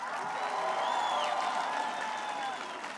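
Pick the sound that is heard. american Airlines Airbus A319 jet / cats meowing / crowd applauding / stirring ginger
crowd applauding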